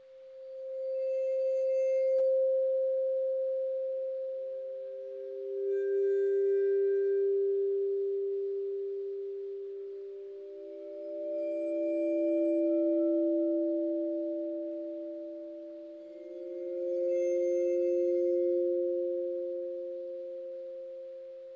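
A vibraphone bar bowed with an old bass bow sings in long, pure sustained tones, several separate bowed notes swelling and fading one after another, soft and alone in quiet surroundings.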